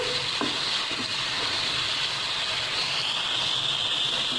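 Masala with garlic paste fries in a pan, giving a steady, close sizzle and hiss with a few light stirring clicks near the start.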